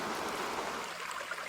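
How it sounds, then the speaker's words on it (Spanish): Steady rushing water like a running shower, a phone app sound effect, an even hiss with no pauses or voices, close and moderately loud. "esto es como una regadera"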